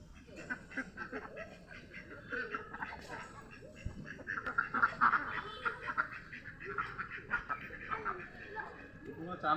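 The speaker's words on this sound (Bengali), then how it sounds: "হাঁস মুরগি কত দেখতে চলেছে" Ducks quack repeatedly in the background, faint and somewhat distant, in a rural Bengal village beside a river, while people talk and chuckle nearby.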